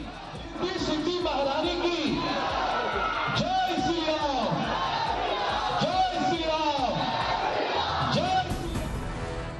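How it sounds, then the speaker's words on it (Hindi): A dense crowd of devotees at a Ganpati festival in Madhepura, Bihar, fills the air with continuous chatter and rising yells and whoops, while a voice talks over the noise throughout. "उमड़ी भक्तों की भीड़, आकर्षक तरीके से की गई भव्य सजावट।"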